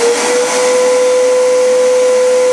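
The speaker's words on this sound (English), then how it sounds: "When a vacuum goes on, it's a high screeching noise." A household vacuum cleaner runs loud and steady with a high, whistling whine held throughout, close by and continuous, with no voices over it.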